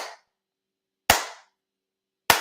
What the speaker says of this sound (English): It's like the slow clap effect.